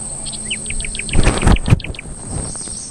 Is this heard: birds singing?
yes